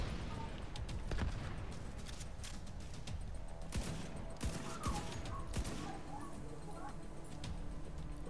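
Gunfire from the video game Tom Clancy's The Division 2, a dense run of rapid shots and bursts across a steady battle din, with players talking over it throughout.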